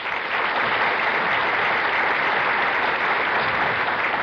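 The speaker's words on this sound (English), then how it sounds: "I don't know whether you're applauding because he said City of Hope or the name Hope was in it." A studio audience at a 1960 Jackpot Bowling television game show applauds in a dense, steady wash of clapping that holds at full strength for about four seconds, with no talking over it.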